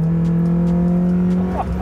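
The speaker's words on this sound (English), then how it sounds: "In terms of the way that this thing sounds, which is really great, it's fitted with one of our stainless steel exhausts and it really," A Mazda MX-5 fitted with a stainless steel exhaust holds a steady, loud, humming engine note close by, with a slight rev near the end.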